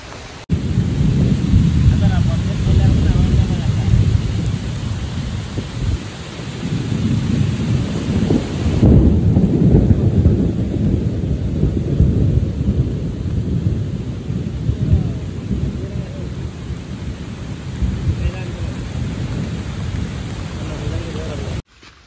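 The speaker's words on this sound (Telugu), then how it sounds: "వర్షం అయితే పడిపోతుంది" Heavy rain pours down steadily with low rolling thunder underneath, a loud, dense wash of rainfall lasting throughout, with a brief shift in tone midway.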